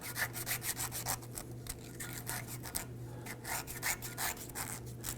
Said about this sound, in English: Now I'm just using a little bit of sandpaper here to go ahead and clean the surface. You can use a 120 grit.